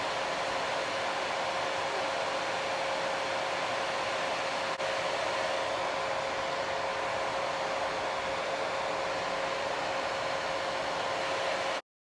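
An electric nail drill with a mini mandrel bit whirs at a constant high-pitched steady tone while filing builder gel over new nail growth, running alone without pause and stopping abruptly at the end.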